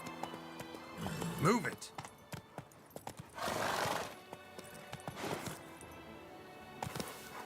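Roach the horse galloping in The Witcher 3, with clip-clop hoofbeats, a whinny and bursts of movement noise, while someone speaks briefly over the action.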